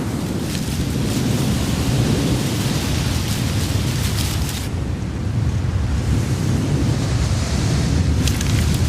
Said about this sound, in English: bringing with it heavy rain and high winds